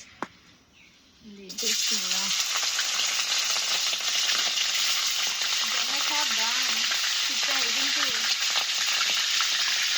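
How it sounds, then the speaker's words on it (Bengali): After a quiet start, loud continuous sizzling of food frying in a pan fills the clip, with faint voices in the background. "হালকা ভাজা দেবো, তারপর এখন মাংস দিয়ে দিব।"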